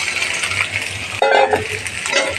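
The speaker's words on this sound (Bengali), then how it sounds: "এবার আমি কাটা আলুগুলো দিয়ে দেবো।" Cut potatoes tipped into hot oil in a pan already frying cardamom and whole spices, giving a sudden loud clatter and crackle midway, then settling into a softer sizzle.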